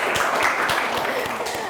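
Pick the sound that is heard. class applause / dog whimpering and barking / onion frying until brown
class applause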